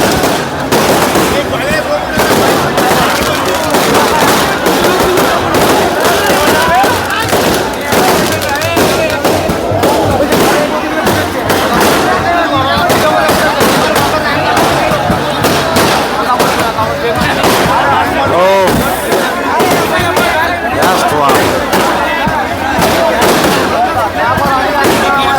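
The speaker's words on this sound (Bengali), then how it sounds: "কিন্তু এখন আতশবাজি থামলো না।" Continuous fireworks display at a Kartik Puja immersion in Sonamukhi, West Bengal, a loud, dense barrage of rapid crackling bursts and bangs running nonstop, with crowd voices underneath.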